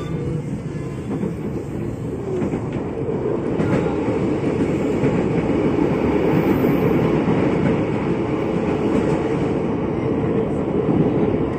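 Tokyo Metro 6000 series KRL commuter train running on the Rangkasbitung line, a steady loud interior rumble with rhythmic clickety-clack of wheels over rail joints, continuous and close throughout.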